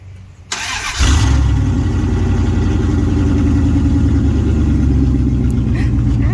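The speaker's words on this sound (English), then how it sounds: "This is your second gen Dodge 360 engine with cat and no muffler." A second-generation Dodge Ram truck's 360 V8 engine, with catalytic converter and no muffler, cranks and fires up, then settles into a loud, deep, throbbing idle with an open, unmuffled rumble close by.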